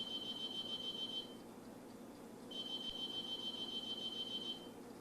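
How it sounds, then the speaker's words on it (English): A mailbox alarm sounds as mail is delivered: a thin, high electronic tone beeps in two sustained bursts separated by a short pause. It is faint against a quiet room hum. "I have an alarm on my mailbox so I know when the mailman comes."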